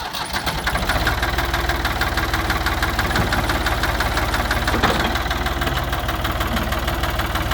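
A John Deere 440 crawler tractor engine idles nearby with a steady, fast knocking diesel rhythm, loud and continuous outdoors on a muggy day in Georgia, with no talking.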